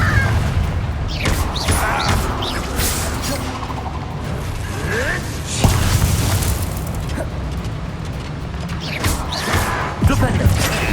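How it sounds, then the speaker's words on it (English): Confringo fire-blast spells exploding during combat in Hogwarts Legacy: repeated broad bursts, the loudest near the middle and again near the end, over busy game noise with voices in the background. "Confringo!"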